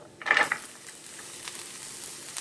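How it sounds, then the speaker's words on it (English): Carrots, onions and celery hit a very hot pan with a sharp burst of sizzle, then a steady, moderate frying hiss continues close by with no voices. "I'm going to go ahead and add my carrots and onions and celery"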